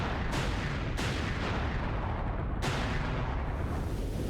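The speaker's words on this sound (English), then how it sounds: "they made some slightly better explosions this time" Explosions in the video game Sonic Adventure 2 roar as a dense, continuous rumble, with fresh blasts bursting in at three points over a few seconds, loud throughout and with no talk.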